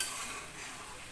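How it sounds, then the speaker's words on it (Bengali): A curry of banana flower and potato with poppy seed is stirred in a pan, giving a brief, steady, soft sizzling hiss with no clear scrape or clink. "নাড়িয়ে দিলাম"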